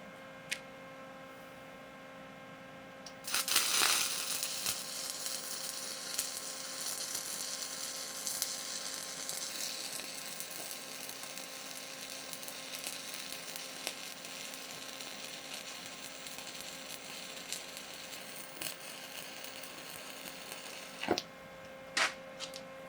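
An arc welder lays the final cap bead on 6-inch schedule 80 pipe with 7018 rod, a steady crackling sizzle over a constant electrical hum that runs for most of the stretch, with a few sharp clicks near the end.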